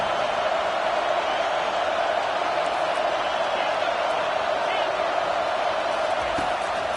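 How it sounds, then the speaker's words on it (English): Stadium crowd at a football game in a video game, a steady, distant roar of cheering held at an even level throughout, with no clear individual voices. "Listen to the crowd energy here in the early going."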